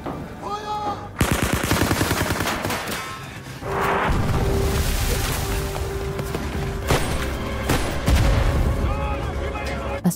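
Gunfire exchange in a WWII battle scene with German troops attacking at a bridge: loud, dense bursts of automatic fire and booming shots running almost continuously under a busy mix, with a brief lull midway before the barrage resumes.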